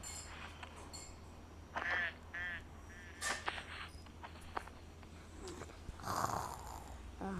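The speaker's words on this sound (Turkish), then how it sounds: "Horla yap, horlam, horlamaya bak ya" A cartoon character snores in a few drawn-out, rhythmic bursts over a busy animated-series soundtrack of background effects and music.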